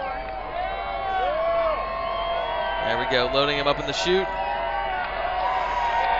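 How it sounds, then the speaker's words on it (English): A crowd roars and cheers before a marble race in the quarterfinals of a knockout tournament. The swelling, wavering whoops and shouts sit under loud, excited commentary. "The crowd is hyped for this one"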